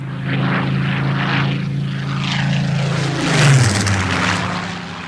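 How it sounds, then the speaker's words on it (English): Supermarine Spitfire with a Rolls-Royce Griffon engine flying at Derby, its loud, rough propeller drone rising as it passes near the middle, then the pitch falling away as it recedes. "the Rolls-Royce team once more gave it new power, the Griffon engine."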